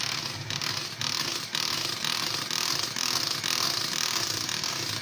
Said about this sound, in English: As you can see, the beater will whisk it all round.